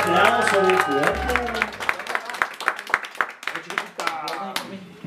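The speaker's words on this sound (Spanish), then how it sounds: "Y ese aplauso de fuerte" At a mariachi birthday celebration, guests clap as a song ends; brass and voice ring out at first, then fairly close, uneven clapping takes over with voices and cheers mixed in.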